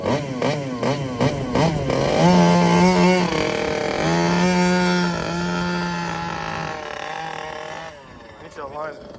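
A small engine on a large RC rally car revs in short rising bursts, then holds steadier, higher-pitched revs for several seconds before settling back, loud and close with people talking over it.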